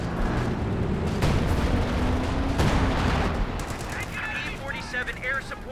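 Artillery barrage in the WWII strategy game Company of Heroes 2, a steady rumble of distant blasts and gunfire running throughout, with a voice talking over it.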